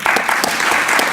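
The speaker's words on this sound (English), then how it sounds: "Just applaud for them." Audience at a fundraiser tabla performance gives brief, dense applause, a steady burst of many hands clapping close by.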